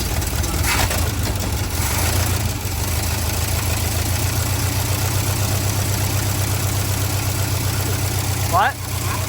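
An abandoned 1969 Cadillac's engine running after repair work, a steady, close, loud low rumble that holds fairly even throughout and cuts briefly near the end, with people talking over it.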